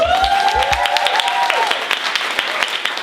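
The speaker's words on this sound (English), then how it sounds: "Let's take a bow and you guys can clap for us." A live audience applauding improv performers, dense clapping throughout with a few whoops and a tonal whistle-like cheer rising over it early on.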